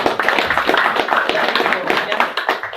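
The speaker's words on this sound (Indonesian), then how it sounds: "Tepuk tangan." Audience clapping at a business opportunity presentation, a dense patter of many hands filling the room at steady loudness throughout, with a trace of voices mixed in.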